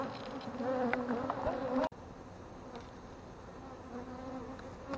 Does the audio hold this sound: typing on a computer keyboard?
no